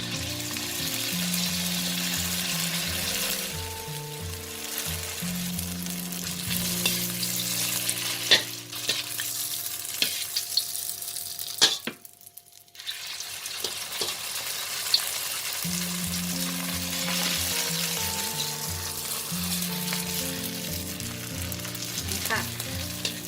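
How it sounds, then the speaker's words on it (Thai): Fish skin with seaweed frying in a little oil, a steady close sizzle with occasional stirring clinks, briefly dropping away near the middle before resuming. "ค่อยๆทอด เราใช้น้ำมันไม่ต้องเยอะค่ะ เขาจะได้ไม่ติดกันนะ"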